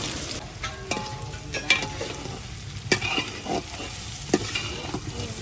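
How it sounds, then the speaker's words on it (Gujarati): Onion and garlic fry in oil after a cumin tempering, a steady close sizzle broken by sharp scrapes and clinks of a stirring spoon against the pan, with no voices. "કાંદા અને લસણ બેને ફ્રાય કરવા માટે મેં કીધું છે"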